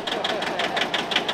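Steady mid-pitched engine running continuously at close range, with a regular pulsing knock and mechanical clatter throughout, heard at a rice mill in rural northeastern Thailand.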